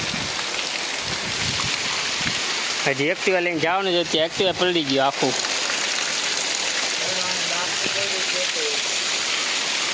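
Heavy rain falls steadily and loudly in a continuous wash, while someone talks briefly over it partway through.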